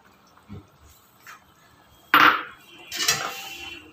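Kadai chicken with tomato puree, coriander and kasuri methi being stirred in a pan: a few soft taps, then a sharp metal clank and a longer scraping of the utensil against the pan, close and fairly loud, with no voices.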